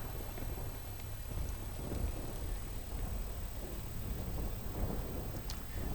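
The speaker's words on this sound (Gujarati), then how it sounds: "છેલ્લા ચાર દિવસથી ઝરમર વરસાદ સાથે ઝાપટા ચાલુ છે" Steady drizzling rain with showers in winter in Surendranagar district, Gujarat, a low, rumbling wash underneath, continuous and fairly loud, no voices present.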